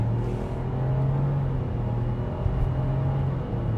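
A 2026 Chevy Trailblazer subcompact SUV with a 1.3-liter turbocharged three-cylinder engine accelerates on the road, a steady low engine drone and rumble heard from inside the cabin, with no talking.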